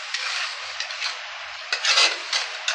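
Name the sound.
sautéing spice masala in a pan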